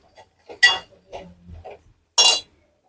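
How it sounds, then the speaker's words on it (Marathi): A spoon knocks and scrapes against a cooking pot as dry ribbon fish curry is stirred and sautéed, giving several sharp, separate metallic clinks with quiet gaps between them. "परतून घेऊया परत एकदा छान"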